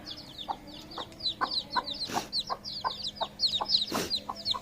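Chickens on a farm cluck in a quick repeated rhythm, several birds close by and fairly loud, with two brief louder bursts among the clucks.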